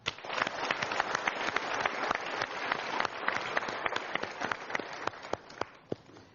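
A studio audience at an Indonesian talk show applauds for Indonesian housewives, a dense, steady clapping that stays loud throughout.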